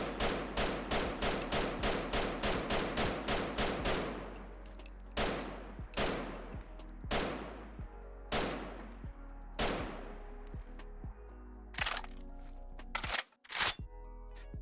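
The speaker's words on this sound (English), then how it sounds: "let's go ahead and fire this thing a few times, look at its accuracy, and check out the base reload" Modded rifle in Fallout 4 fires a rapid burst of about a dozen close, loud shots, then several spaced single shots, followed by mechanical reload clicks and a charging-handle clack.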